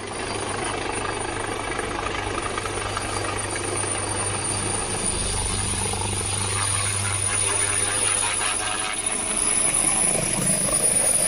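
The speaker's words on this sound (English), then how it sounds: "As the helicopter attempted to land in India, plastic sheets and debris were lifted by the rotor wash" A helicopter's rotor and engine roar steadily and loudly close by as it attempts to land, a constant whirring drone with no break.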